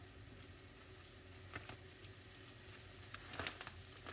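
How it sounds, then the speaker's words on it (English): Steady, faint sizzling of pork chops frying in a pan on low heat, a constant crackling hiss with occasional louder pops, no voices. "Listen to that sizzle"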